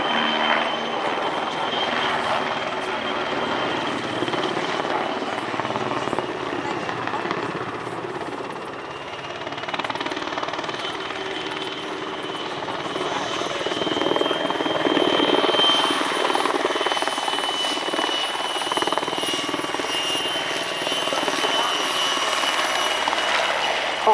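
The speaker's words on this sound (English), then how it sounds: "you'll get a chance to see the camouflage Sokol very close up first, because it's going to conduct a rolling landing on the runway" Czech air force Sokol helicopter in camouflage making a rolling landing on a runway, its rotor and turbine roar loud and steady throughout, swelling slightly as it comes closer, with a thin high whine on top.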